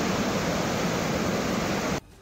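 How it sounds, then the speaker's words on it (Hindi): Floodwater rushes along a road after a cloudburst, a loud, dense, steady roar of churning water that cuts off abruptly near the end. "पानी की आवाज सुनकर ही सिरहन पैदा हो रही थी"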